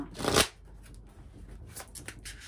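A deck of oracle cards, the Gardiens de Lumière deck, is shuffled in one brisk, close riffling burst lasting under half a second, followed by faint handling and soft rustles in a quiet room.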